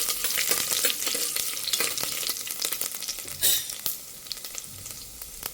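Cumin, spices and chopped garlic fry in hot oil in a pan for jackfruit pulao, giving a steady, close sizzle with crackling pops and a brief louder burst partway through. No talking.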